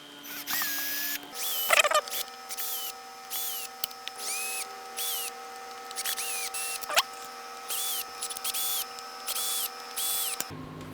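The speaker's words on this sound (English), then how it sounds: "as you're taking the screws out so that the screw gun doesn't slip off and mark the back of your headstock" A screw gun backs tuner screws out of the rear of a Fender bass headstock in short, repeated whirring bursts with pauses between them, close and fairly quiet.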